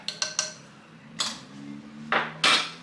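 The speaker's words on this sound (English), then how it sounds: "Mixing it with the chopstick" A chopstick stirs milk and sugar in a bowl, giving three quick clinks, then a pause and further louder taps and scrapes against the dish, close and distinct with no talking.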